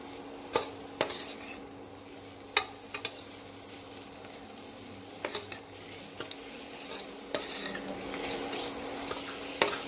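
Onions sauté in a pan for brinji, giving a soft steady sizzle under intermittent clinks and scrapes of a utensil against the pan; fairly quiet and close, with no talking.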